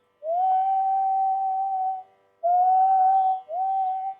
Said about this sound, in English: It's a little difficult to manage the blow with whistling.